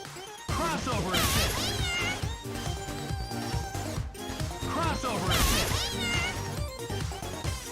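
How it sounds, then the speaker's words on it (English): Felicia's Sand Splash assist from a Capcom fighting game: cat-like meows and yowls over busy game music, with sharp crashing hits and whooshing attack effects throughout. "Her second assist is Sand Splash."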